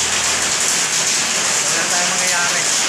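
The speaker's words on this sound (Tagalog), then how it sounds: "Tagal-tagal mga ganyang ulan na yan" Steady rain pours down in a dense, even hiss with no break, close by, with faint voices in the background.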